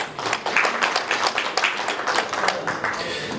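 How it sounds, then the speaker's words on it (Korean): Audience applause at a Gyeongsangbuk-do Daegu-Gyeongbuk airport promotion committee plenary meeting, a moderate, somewhat sparse burst of clapping with distinct individual claps, steady for a few seconds before easing slightly. "다시 한번 박수 부탁드리겠습니다"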